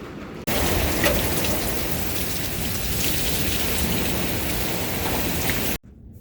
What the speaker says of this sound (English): There's hail.